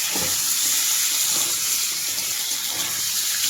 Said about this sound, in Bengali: এবার ফোড়নে দিয়ে দেব রাঁধুনি আর তেজপাতা